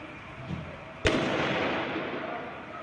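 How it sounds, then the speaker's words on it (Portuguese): A single sharp gunshot cracks out during an armed attack on a cash-in-transit company and a military police battalion in the small city of Guarapuava, with a fainter pop before it and a lingering rumbling tail afterward. "Olha o barulho dos tiros"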